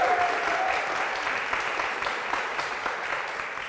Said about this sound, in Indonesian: Sekali lagi tepuk tangan buat tim Collabs.